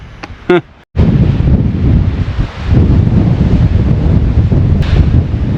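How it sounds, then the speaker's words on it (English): Strong wind roars and buffets the microphone in a continuous low rush after a brief quiet moment at the start, on a shaded mountain hiking trail on Guadalupe Peak. "it's gotten very windy"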